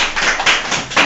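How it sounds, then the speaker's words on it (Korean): Applause at a Korean group workshop presentation, a short burst of dense clapping from a nearby audience that swells in pulses and holds steady throughout. "박수 부탁합니다"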